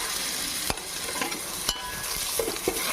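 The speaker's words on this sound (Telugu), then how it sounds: "ఇది అల్లం వెల్లుల్లి పేస్ట్ మనకి పచ్చి వాసన పోయేదాకా మంచిగా ఫ్రై చేసుకుందాం." Ginger garlic paste fries in a pan for Hyderabadi Bagara rice, a steady close sizzle running throughout with a few sharp stirring scrapes and clinks of a spoon against the pan.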